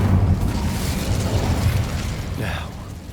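The Incendio fire spell is cast in the Hogwarts Legacy video game, a loud, rumbling burst of fiery blast that swells and then fades, with a spoken spell voice line mixed in.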